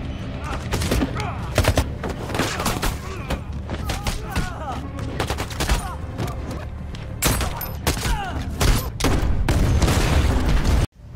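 Bursts of gunfire crack through a film action scene, a fusillade of repeated shots and heavy booms at close range mixed with thuds over a dense soundtrack, ending in a sudden cut to silence.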